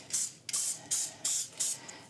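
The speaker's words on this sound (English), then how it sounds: "Now we're gonna spray our pan with Pam." Cooking spray (Pam) hisses onto a baking pan in five short, evenly spaced bursts, close and fairly loud with quiet gaps between, and no voices.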